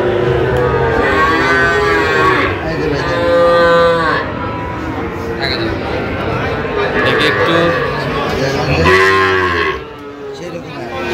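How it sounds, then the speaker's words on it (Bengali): Young Sahiwal bull calves at a cattle market give repeated loud, close moos, several calls overlapping one another while people talk nearby. "শাহিওয়ালার ষাঁড় বাচ্চা"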